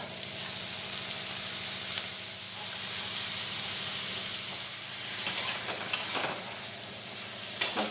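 Long-cut pointed gourd and potato pieces sizzle in a hot pan of oil, a steady loud hiss with a few sharp crackling bursts toward the end as the pieces are stirred.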